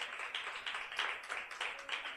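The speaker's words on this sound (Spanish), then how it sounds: "Dele un aplauso de alabanza al Señor." A church congregation claps in praise, a soft, distant patter of many hands with a loosely pulsing rhythm.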